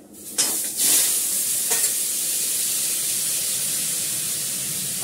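Mustard seeds hit hot ghee for a mango chutney and burst into a loud, steady sizzle with sharp spattering pops at the start, then settle into an even frying hiss.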